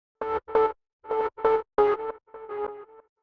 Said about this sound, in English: Distortion or overdrive.